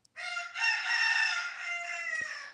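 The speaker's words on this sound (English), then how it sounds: "I thought I heard my roo getting ready to crow" A rooster gives one long, full crow close by, rising and holding steady for over two seconds with no other sounds around it.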